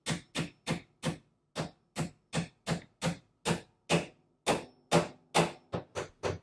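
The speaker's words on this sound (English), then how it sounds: "put this in here and then tap it in with a hammer" A hammer taps sharply and steadily, about sixteen close, even strikes on a metal part while fitting a Bosch dishwasher door spring, each with a brief ringing decay.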